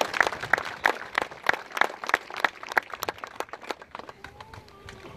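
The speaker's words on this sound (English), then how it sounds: "let's give them a big round of applause" A small outdoor crowd at a park dedication claps in a burst of individual, close hand claps that thin out and fade toward the end, with faint voices beginning underneath.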